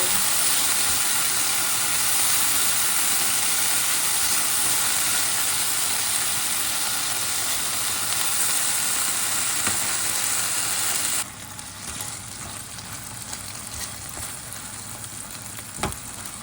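Pork strips stir-frying in a pan over medium-high heat, a loud, continuous close sizzle that drops abruptly to a quieter hiss partway through, with a faint clack near the end and no talk.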